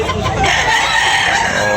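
A rooster crows loudly and close by at a Cebu chicken market in Tabunok, Talisay, one sustained call over a bustling background.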